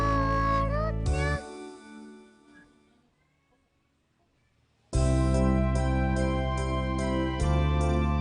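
Cat meows sound within a bright children's song, with a rising meow-like call at the start before the music drops to near silence and then returns loudly.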